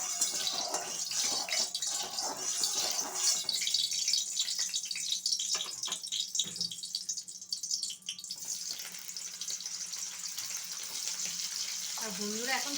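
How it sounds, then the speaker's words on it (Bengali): Water is poured off steamed cauliflower in a continuous splashing, trickling stream, followed by a hot pan hissing as oil goes in for frying. "অল্প জল আছে, আমি জলটা ফেলে দেবো।"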